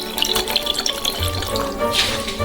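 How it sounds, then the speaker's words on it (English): Vinegar poured into a frying pan holding fries and champagne, a steady trickling liquid pour with light splashing that runs continuously for a couple of seconds, close and moderately loud. "Also, I'll pour in some vinegar."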